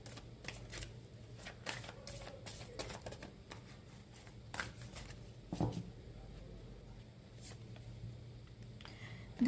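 Tarot cards are shuffled and handled up close, giving faint, quiet riffles and soft slaps in irregular bursts over a near-silent background.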